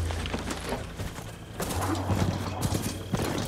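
Horse hooves clop in quick galloping rhythm with a whinny in the video game Horizon Forbidden West, loud and close, under a busy game soundtrack.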